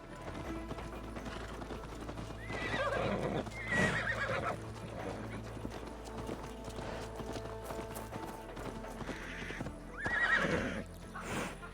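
A horse in Assassin's Creed Valhalla whinnies twice, loud and close, between stretches of hooves clip-clopping over a low steady game ambience.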